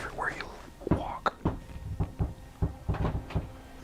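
A shaking wooden table in an old inn gives off a series of irregular creaks and knocks, short sharp bursts repeating close by, with soft whispering and speech mixed in.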